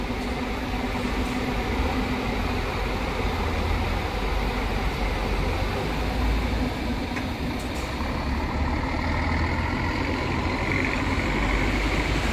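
A Rápido Oeste coach pulls out of the Ribeirão Preto bus terminal, its diesel engine droning steadily and loudly throughout amid constant station noise.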